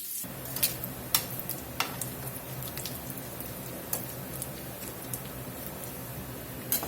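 Bacon frying in its own grease in a pan, a steady close crackling sizzle with scattered sharp pops and spits throughout, no voices.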